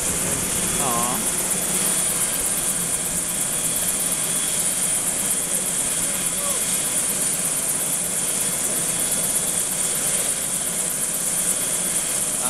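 Helicopter taking off from snow near a lodge, its engine and rotor roaring loud and steady throughout, with a brief voice near the start.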